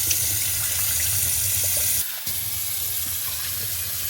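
Tap water pours steadily into a sink while cut sweet potatoes are washed, a close, continuous hissing flow with a brief break partway through, no voices.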